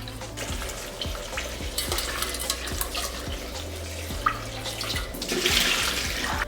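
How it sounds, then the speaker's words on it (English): Irish sea moss is swished and sloshed around in a bowl of water while being washed, with repeated wet splashing and stirring sounds close by and no talking. "So I'm just gonna give it a good wash."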